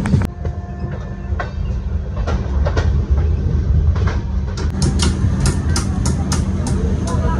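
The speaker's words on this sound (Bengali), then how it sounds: "আমাদের ট্রেনে শিয়ালদা থেকে 486 কিলোমিটার ট্রাভেল করে এসে আমরা এই ঢুকছি কিষানগঞ্জ" Train pulling into Kishanganj station after a long run from Sealdah, a loud steady rumble of wheels on track with brisk clicking joints and faint squeals, heard from aboard and with no talking.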